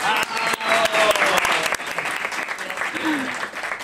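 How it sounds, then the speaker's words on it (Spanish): Audience applause rises quickly and holds at a lively, dense clatter during a Colombian film event discussion, with voices and a few whistles faintly mixed in before it starts to thin. "Otro aplauso para que sea bien boleta la cosa."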